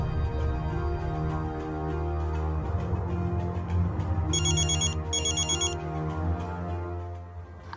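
A telephone rings in a steady repeating pattern, with a brighter electronic trill breaking in partway through, heard alone with no talk.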